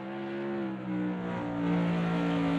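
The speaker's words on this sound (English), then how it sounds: "It does sound like a throaty AMG" In Automobilista 2, a Mercedes AMG race car's engine holds a deep, throaty drone with rising revs and a brief dip, steady and close with no talk.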